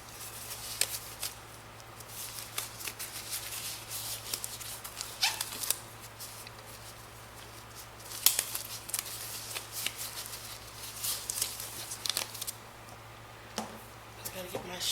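Rubber gloves are pulled on by hand while making oatmeal bath truffles, with repeated crinkly snaps and rustles in irregular bursts at close range and no speech.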